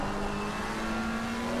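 A McLaren GT race car's engine drones steadily in a sim racing game at Mount Panorama, holding a sustained, slowly rising note without any talk.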